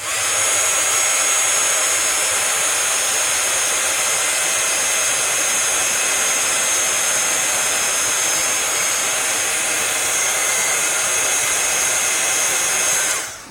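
A heat tool for melting embossing powder blows in a steady, loud whirring roar for the full stretch, close by, then cuts off at the very end.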